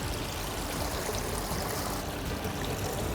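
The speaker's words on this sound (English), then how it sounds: "Yeah, the boat is filling up with water." Water leaks into a paper boat out on the water, a steady, dense rushing and trickling wash that stays loud and even throughout.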